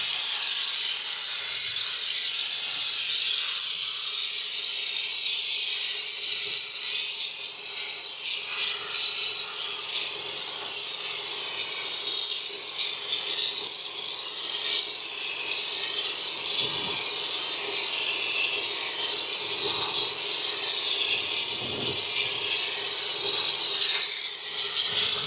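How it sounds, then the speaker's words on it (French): An aerosol spray can being emptied gives off a continuous, loud hiss that runs the whole length without a break, with faint knocks and rustles underneath. "Alors là, on vide la bombe"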